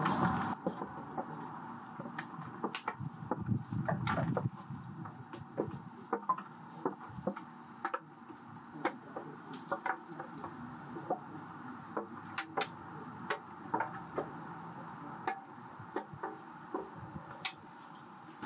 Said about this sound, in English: You just want to fry the onions for a couple of minutes to get it kind of translucent.